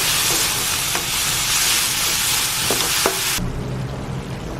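Tomatoes cooking in a pan: a loud, steady sizzle and hiss of frying, with a few soft clinks of stirring, the bright sizzle dropping away abruptly near the end to a lower, duller simmer.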